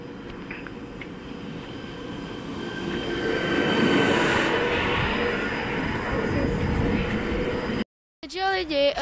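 A Czech passenger train passes on the Nepomuk–Horažďovice line, a loud broad rumble that swells near the middle and holds steady before cutting off sharply, followed by a brief burst of voice.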